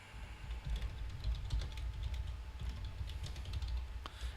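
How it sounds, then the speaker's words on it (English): Rapid typing on a computer keyboard in a podcast setting, a steady run of fairly quiet, close clicks and taps with no talking over it. "I'm typing up something here"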